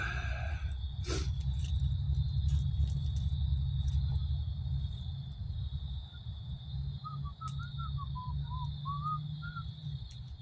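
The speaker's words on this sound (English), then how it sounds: "Whistle while I work." At a winter campsite, someone whistles a short, wandering tune in the second half while a pan heats, over a steady low hum and a high continuous tone.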